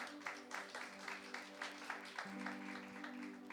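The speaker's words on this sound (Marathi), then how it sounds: "जरा टाळ्या वाजवा तुमच्यासाठी." A church congregation claps during a Sunday sermon, faint and distant, in a fairly regular rhythm of soft pulses over a low steady hum.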